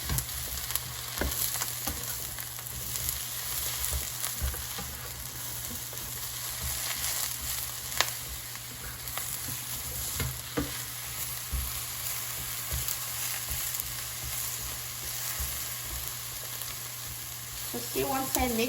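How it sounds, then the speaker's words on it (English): Eggplant pieces fry in hot oil in a pan, giving a constant loud sizzle with occasional scraping clicks as they are stirred. "So now the oil is sizzling and the pan has heated, so I'm going to mix the eggplant."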